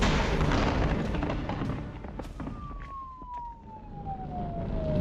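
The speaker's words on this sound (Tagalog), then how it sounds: "naririnig ko rin ang sirena ng mga pulis sa labas" A police car siren sounds from outside, a falling wail rising out of a loud, rumbling backdrop with sharp bangs and crackles, coming and going at moderate distance.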